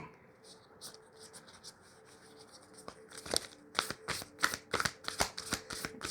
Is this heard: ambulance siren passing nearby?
no